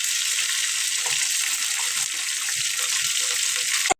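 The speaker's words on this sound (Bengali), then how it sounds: "এই যে তেলের মধ্যে ভাজা নিতে একদম বেশি ভাজা যাবে না" Onions frying in hot oil in a home kitchen give a steady, dense hiss that holds evenly for about four seconds, then cuts off abruptly.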